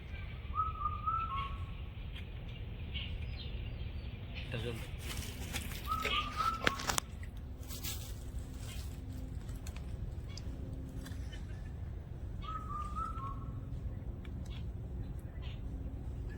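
Birds calling in a mango orchard, a few short chirping phrases near 1, 6 and 13 seconds, moderately near, over steady low outdoor rumble with some rustling and clicks.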